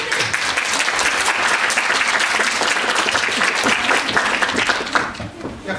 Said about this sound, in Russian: а продолжительные аплодисменты.